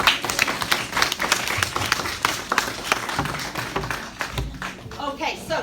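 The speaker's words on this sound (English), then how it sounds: "And that deserves a round of applause." A school open-day audience claps in a quick, dense patter of hand claps that carries on for several seconds, with people talking over it as the clapping thins toward the end.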